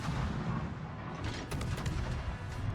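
Destroyer naval guns in World of Warships fire a short cluster of booming shots over a dense, constant roar of battle and sea ambience.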